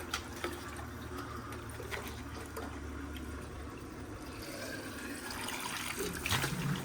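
Water gushes steadily from a bore-well pipe into metal pots on a farm, a continuous broadband splash with low rumble that grows slightly louder and brighter near the end, with no talking.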